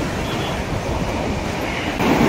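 A train rolls past close by at a busy spot near Chinchpokli in Mumbai, a steady loud rumble that swells slightly toward the end, with no talking over it.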